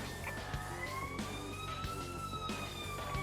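A video game ambulance siren wails, rising slowly and steadily over a busy background of engine hum and clatter, at a moderate distance.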